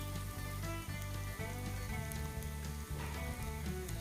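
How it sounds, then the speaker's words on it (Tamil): Steady, dense sizzling of onions frying in a hot pan, continuous crackle with occasional stirring scrapes, close and fairly loud, no voices. "அந்த வெங்காயம் நல்லா பொன் நிறமாக மாறுற வரைக்கும் நல்லா வணக்கிக்கலாம்."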